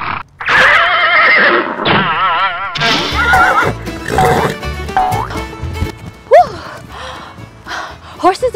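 A horse whinnies loudly with wavering pitch, mixed with other animal-like calls and voices in a busy, cartoonish farm-animal soundscape.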